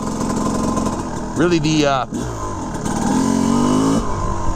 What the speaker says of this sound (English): Let me just roll by a couple times so you can see the profile of this bike.